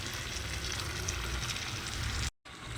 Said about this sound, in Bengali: চিকেনগুলো এর মধ্যে দিয়ে চিকেনটাও কিন্তু এই মশলার সঙ্গে খুব ভালোভাবে কষিয়ে নিতে হবে।